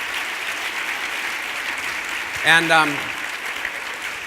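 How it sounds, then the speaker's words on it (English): Applause for sponsors at a YWCA fundraising gala fills the room as a steady wash of clapping, with a brief voice speaking over it midway. "Can we give all of them a big round of applause?"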